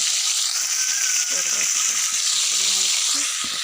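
Bitter gourd frying in a pan gives a steady, close hiss of sizzling oil, with faint voices and a few soft utensil sounds underneath.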